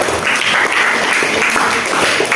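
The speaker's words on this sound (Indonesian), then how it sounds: "Aplaus kepada kelompok" Students in a classroom applaud a student group, with steady, dense clapping that is loud and close and lasts the whole stretch, with no talking over it.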